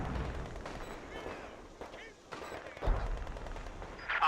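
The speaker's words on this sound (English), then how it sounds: "Target artillery barrage." Artillery barrage in Company of Heroes 2, with distant shell blasts and scattered gunfire thudding at irregular intervals, fairly faint under the game's battlefield noise and brief voice callouts.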